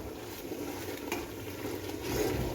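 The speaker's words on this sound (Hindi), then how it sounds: "इन सारे मसालों को हम इसी में डाल और भून लेते हैं।" Ground spices such as ajwain being roasted and stirred in a pan, a soft continuous sizzle with light scraping and faint utensil clinks, close but quiet.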